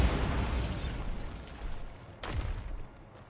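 The Bombarda explosion spell in Hogwarts Legacy goes off with a heavy, booming burst, the rumble fading before a second sharp bang flares up near the end.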